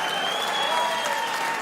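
Loud, continuous audience applause fills a stand-up comedy show at Webster Hall, a thick steady roar of clapping from a large crowd throughout.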